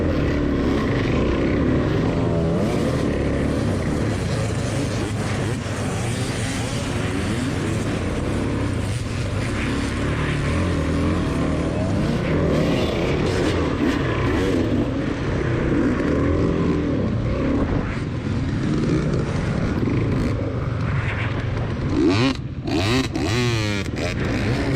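Dirt bike engines from a novice-advanced race pack drone and rev continuously at close range, a loud steady motorcycle roar filling the whole stretch.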